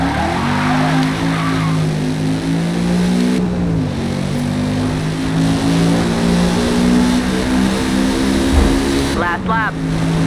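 A 2018 TVR Griffith with a rear-wheel-drive race tune racing in Forza Motorsport, engine droning loud and steady with slight pitch shifts, and a voice talking over it.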